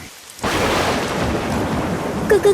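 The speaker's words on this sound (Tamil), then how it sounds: "என்ன பயங்கரமா மழை பெய்யுது அஞ்சு வருஷத்துக்கு அப்புறம் இப்பதான் ஆலங்கட்டி மழை இந்த ஊருக்கு பெய்யுது" Heavy hailstorm in a Tamil cartoon, with a thunder crack opening into a loud, continuous roar of pouring rain and hail; a couple of short sharp bursts stand out near the end, with no speech.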